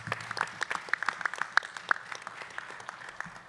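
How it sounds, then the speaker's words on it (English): Applause from an audience at the close of a panel talk on innovation in the U.S. Indo-Pacific theater: a dense, steady patter of many hands clapping, moderately loud and continuing without a break. "if we can just give them a round of applause."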